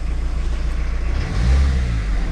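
Peugeot 806 car pulling away in second gear after clutch work, a steady low engine rumble that swells briefly in the middle as it moves off, close by with no talk.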